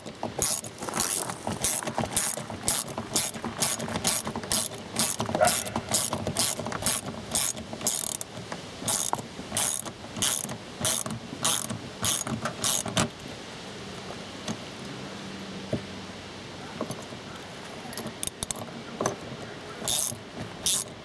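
A ratchet wrench clicks in rapid, steady bursts while someone tightens bolts on a cargo box on a 2022 Polaris RZR Trail Premium. The clicking is close and loud, then stops, and quieter handling noises follow.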